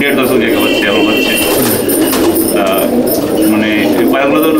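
Magnet line pigeons coo softly amid a busy, noisy loft, their low calls layered under constant background clatter and a voice talking over them.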